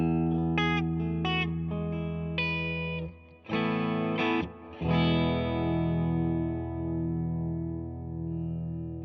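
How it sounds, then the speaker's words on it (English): Electric guitar notes and chords ringing out through delay and reverb pedals, with echoing repeats and a long wash of sustain, no voices. "you can set a nice reverb and a nice delay, back the tone off a little bit"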